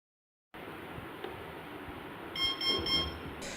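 A BLDC drone motor's ESC gives three short, clear electronic beeps in quick succession during throttle calibration with a 3S battery, set against a quiet background hum.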